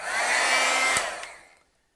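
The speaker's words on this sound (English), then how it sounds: "I should really heat set this so when I'm handling it, it's not so prone to ink removal." An embossing heat tool blows steadily to heat-set stamped ink on paper, a loud continuous fan roar that fades out after about a second and a half.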